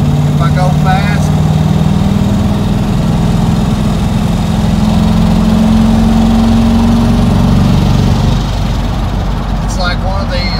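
A GMC K2500 pickup with a swapped 6.0 LS V8 runs rough with a lifter losing prime. The engine drones loudly and steadily up close, with uneven low pulsing throughout and a voice speaking briefly over it.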